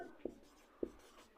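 Pen writing out a math solution on paper, three sharp scratchy strokes at a slow, even pace, close and quiet with no talk.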